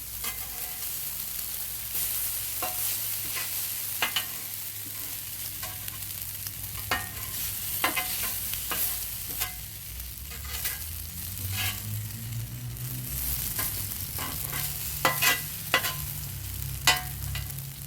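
Potatoes sizzle and fry steadily in oil on a hot outdoor flat-top griddle, with sharp scrapes and clacks of a big spatula stirring them at irregular intervals.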